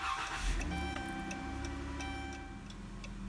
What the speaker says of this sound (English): put it in the ignition, and start the car.